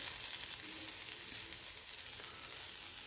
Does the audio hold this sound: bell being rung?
no